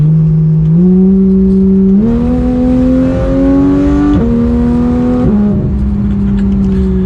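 A 991 Porsche 911 GT3 engine revs loudly and steadily, its pitch climbing in stepped surges through several gears, well short of 9,000 RPM, before easing back down near the end.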